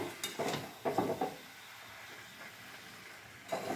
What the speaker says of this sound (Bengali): এই এখন নেড়ে ছেড়ে নিচ্ছে মা।